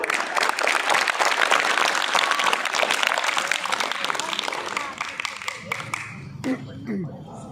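An audience at a public gathering breaks into dense, sustained applause that fills the room, then thins out toward the end, where a voice begins to emerge.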